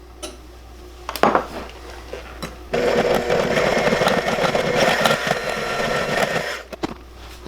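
An electric mixer whirs steadily through flourless chocolate torte batter as eggs are beaten in, starting after a few short clinks and running loud and continuous for about four seconds before stopping.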